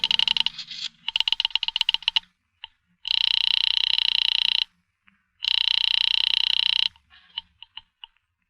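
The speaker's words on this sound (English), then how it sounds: "I'm ringing Miss Blake's apartment." An old-style telephone ringing over the line in a radio drama, first quick dial clicks, then two long, loud double-bell rings separated by a pause, followed by a few faint clicks.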